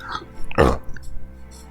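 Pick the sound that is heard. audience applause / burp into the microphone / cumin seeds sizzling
burp into the microphone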